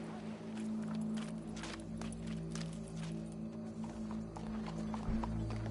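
A horse in Red Dead Redemption 2 clops along at a walk, with steady soft hoofbeats under a low droning game ambience, faint and slightly distant.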